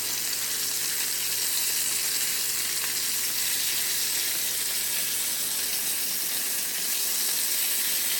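Pork chops sizzle in a cast iron pan, a loud continuous close frying hiss that holds steady throughout with no voices.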